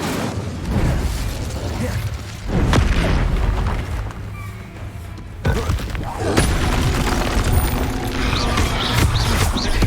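Incendio fire spell cast in Hogwarts Legacy, a loud roaring, crackling blast of fire with booming bursts and rumbling effects running almost continuously, with no speech.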